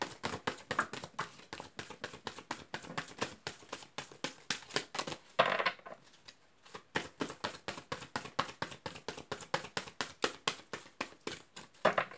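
Tarot cards are shuffled by hand in quick rhythmic riffles and taps, steady and close-miked, with a brief pause midway before the crisp card slaps resume.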